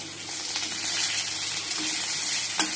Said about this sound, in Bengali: পটলগুলো ভেজে নিচ্ছি আর এদিকে মাছ ভাজা হয়ে গেছে আলুগুলোও ভেজে নিয়েছি আর এদিকে পটলটা ভেজে নিচ্ছি